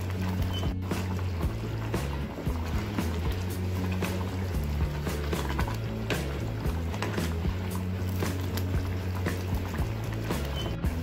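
Coconut milk being stirred into a simmering pan of tuna Bicol Express, a continuous soft liquid churning with faint utensil scrapes, low and steady throughout.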